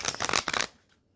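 A quick burst of tarot cards being shuffled, a rapid papery riffle lasting under a second before trailing off into quiet.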